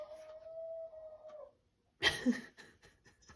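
A pet dog vocalising indoors, a sustained whine or howl that fades out, then a short burst of louder barks after a pause, heard close by.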